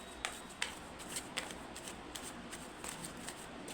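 Tarot cards being shuffled by hand, a quiet run of soft riffling and sharp flicks at irregular intervals, close up, with no talking.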